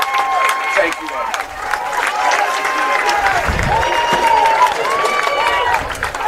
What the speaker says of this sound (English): Crowd on their feet. Nice round of applause here for Jaden.